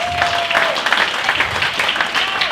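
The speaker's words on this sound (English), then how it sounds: "They deserve another round of applause for our sponsors." An audience at an awards evening applauds the sponsors, a steady wash of dense clapping that continues throughout without a break.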